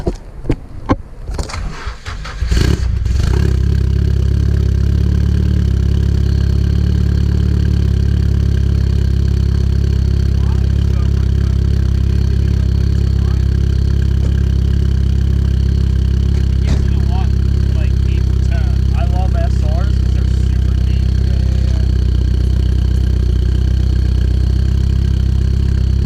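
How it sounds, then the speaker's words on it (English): A Nissan 240SX fitted with an ISR exhaust cranks and fires, then settles into a steady, loud, close idle with a deep low rumble that holds for the rest of the clip; voices can be heard faintly. "Sam is about to start it up with the ISR exhaust on it."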